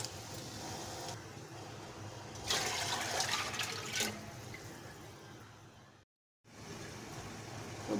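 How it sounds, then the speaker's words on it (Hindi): Water is poured steadily into a pot on the stove for cooking rice for white biryani, a continuous close splashing and filling rush that swells louder midway and then briefly cuts out before resuming. "इसमें डाल देते हैं पानी।"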